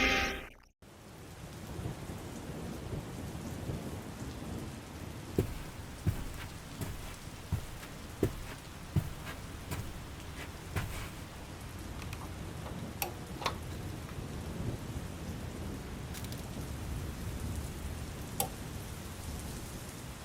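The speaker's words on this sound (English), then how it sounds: "The rhythmic patter of raindrops against the window" Steady rain patters against a window, with scattered sharper drops ticking through the wash and low rumbling thunder underneath, continuous and without voices.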